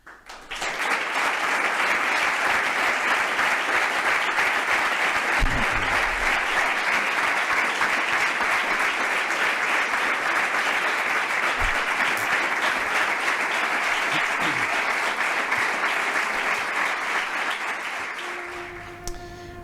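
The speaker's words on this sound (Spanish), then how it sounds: "con ese largo aplauso se ponía fin a la etapa de Paco López al frente del Granada Club de Fútbol" Long, sustained applause marking the departure of the Granada Club de Fútbol coach, loud dense clapping from a large group holding steady for about seventeen seconds before tapering off, heard alone.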